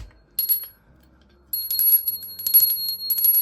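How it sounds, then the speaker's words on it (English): A small desk service bell from a Build a Bank toy set is tapped, giving a bright metallic ding, then a second, longer ringing burst with lingering shimmer, close and clear. "And who got themselves a bank bell?"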